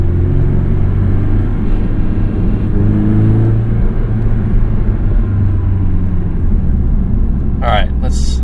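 2017 Porsche 718 Boxster S with PDK gearbox, tuned by MTM, pulls under acceleration from inside the cabin, a steady low engine drone and rumble rising slightly, with a brief voice near the end.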